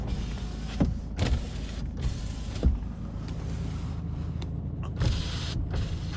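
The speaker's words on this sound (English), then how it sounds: "Electric windows work." A Nissan Navara 2.3 dCi pickup's electric windows whir up and down in several short motor bursts, with thumps as the glass stops, close by over a low idle.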